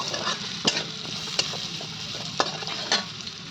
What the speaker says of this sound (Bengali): ভালো করে ভাজা করে নেব